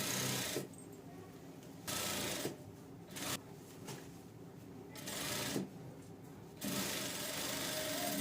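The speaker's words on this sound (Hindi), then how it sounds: "यहाँ से हम सीधी सिलाई लगाएंगे" Sewing machine running a straight seam on a princess-cut blouse, in bursts of rapid whirring stitching separated by brief quiet pauses, close and clear.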